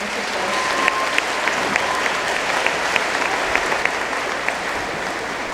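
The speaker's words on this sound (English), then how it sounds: "Please give a round of applause." Sustained audience applause for teachers at an 8th grade awards ceremony, a steady dense wash of many hands clapping throughout, loud and continuous with no voices over it.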